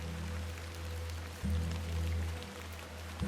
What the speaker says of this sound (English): A bit of rain won't kill me,